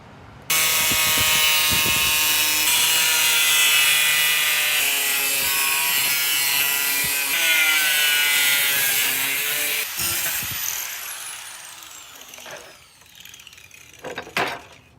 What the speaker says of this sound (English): Now I'm just gonna grab my angle grinder and just cut all the way around into that shape.